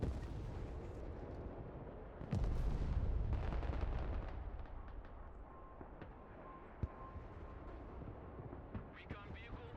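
Artillery-style explosion in the real-time strategy game Broken Arrow, a deep booming blast followed by rumbling and scattered distant pops, while a narrator and in-game unit voices talk over it.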